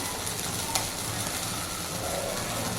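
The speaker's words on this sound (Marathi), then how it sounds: "चिमट्याने पलटी करायची" Tandoori prawns sizzle steadily in a pan while being flipped with tongs, giving a continuous close frying hiss with a brief metallic click.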